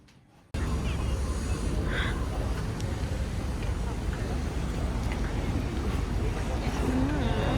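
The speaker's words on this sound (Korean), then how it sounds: "베네치아 첫 보트예요." A boat moving on the water in Venice, with steady engine and wash noise close by and wind buffeting the microphone, and voices talking faintly over it.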